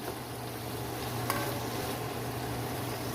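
Hotdog slices frying in a pan for spaghetti, a steady even sizzle with one brief sharp tick partway through, close and alone.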